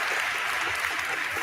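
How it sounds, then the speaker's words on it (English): Applause in a radio studio, a steady wash of clapping that runs evenly throughout without pause and sits fairly loud and close, with no clear talk over it. "Do we not give Dan a round of applause or something?"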